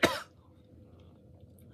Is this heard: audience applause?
no